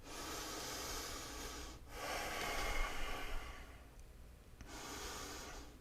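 Slow, deep breaths held through a yoga pose, each long airy inhale and exhale close and soft, with a brief pause between breaths and no talking.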